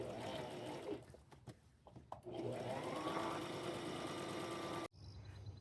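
A sewing machine stitches decorations onto a dress made from a twin size sheet, a close, quiet mechanical whir running in bursts with brief pauses and a sudden stop near the end.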